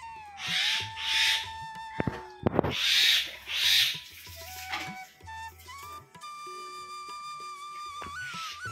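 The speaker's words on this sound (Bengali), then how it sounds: "ও ডেকে যাচ্ছে, ওর সাথে কিন্তু আরেকটা পাখি আসে" A small bird given puffed rice calls repeatedly outdoors on a windy, overcast day before rain, its bright, tonal calls coming in short bursts over steady background noise.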